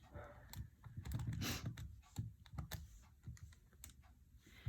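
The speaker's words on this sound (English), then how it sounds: "So I'm just going to type in." Typing on a computer keyboard while working through a quadratic formula problem, with irregular bursts of quick, close key clicks and a pause before a few scattered final taps.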